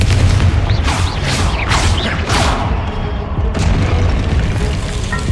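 Confringo spell blasts in Hogwarts Legacy combat, a run of loud booming explosions with rushing whooshes over a dense, continuous game soundtrack, the bursts clustered early and a sharp crack later.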